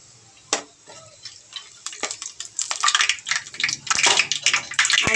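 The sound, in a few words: whole spices frying in hot oil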